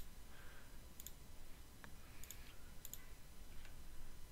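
Mouse clicks while working in Adobe Illustrator, sounding as a few sharp, isolated clicks spaced over a few seconds against steady background hiss.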